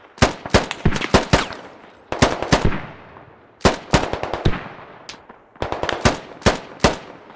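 Gunfire in the military video game Squad: bursts of automatic fire come in four clusters of rapid sharp cracks separated by short gaps, loud and fairly close, with no talking.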